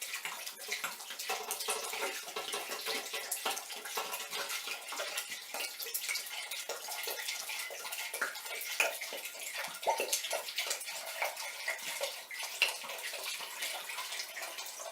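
Water running steadily into a broth pot that holds not quite a gallon, a continuous close splashing stream lasting throughout with no talk.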